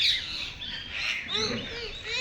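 Birds chirp and squawk in trees near a cattle shed, a steady mix of high calls and tweets at moderate distance with a few louder bursts.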